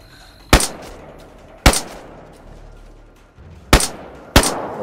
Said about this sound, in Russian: Опа, военка стреляет